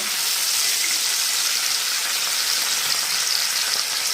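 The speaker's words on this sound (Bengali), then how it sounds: "এটা ততক্ষণই ভাজবো যতক্ষণ না আদা রসুন একটা কাঁচা গন্ধ করে যায়" Ginger-garlic paste fries with a splash of water in a pan for a rui fish korma, giving a steady, loud, close sizzling hiss that runs unbroken throughout with no talking.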